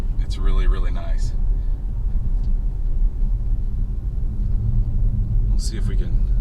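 An all-wheel-drive car idles with a steady low engine rumble, close by and continuous, while a person talks over it at the start and near the end.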